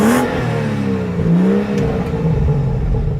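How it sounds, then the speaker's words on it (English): A 2017 BMW 435i engine revving up close, rising and falling in pitch over a few seconds as a steady throaty roar, with no talking. "Let's do a little rev time."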